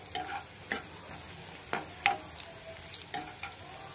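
Garlic fries in hot oil for a gongura dal tempering while a spoon stirs it, a soft continuous sizzle broken by several scraping strokes against the pan, close and moderately quiet.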